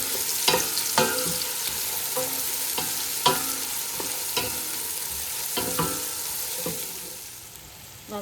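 Onions frying in a pan for chicken dum biryani, a steady close sizzle with repeated scraping strokes of a stirring spoon about every second, with no voices.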